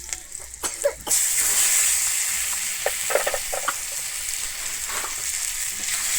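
A ground paste of mustard, poppy seed, ginger and green chilli hits hot oil for a Bengali fish curry. A few clattering taps lead into a close, steady sizzle with intermittent stirring scrapes.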